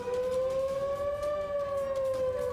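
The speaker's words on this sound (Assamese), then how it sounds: "সমগ্ৰ উত্তৰ ইজৰাইলত এতিয়া যুদ্ধৰ চাইৰেন বজা দেখিবলৈ পোৱা গৈছে শুনিবলৈ পোৱা গৈছে" Civil defense air-raid sirens wail across northern Israel during a rocket attack, one steady loud rising-and-falling tone with a faint higher harmonic, sounding continuously and alone without any voices.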